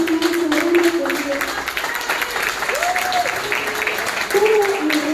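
An audience applauds a colleague being honoured at a book presentation, with dense, sustained clapping and scattered voices over it that fill the whole stretch.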